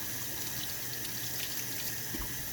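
Tap water runs steadily into a sink while vegetables are scrubbed for homemade pasta sauce, a continuous hissing stream at moderate level with faint scrubbing and handling noises and no talk.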